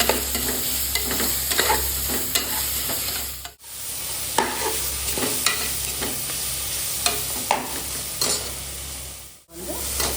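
Onions sautéed with salt in a pan give a steady close sizzle broken by repeated scraping stirs of a spatula, with two short pauses in the frying noise and no talking.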